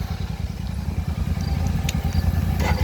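A loud Hemi engine with a cam, open exhaust and open air cleaner starts and runs with a rough, lumpy low rumble, rapid uneven pulses throbbing steadily and close by.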